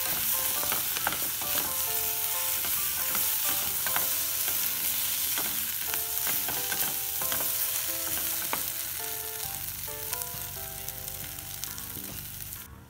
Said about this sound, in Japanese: 野菜に油が回ったら、小麦粉を入れてさらに炒めていきます。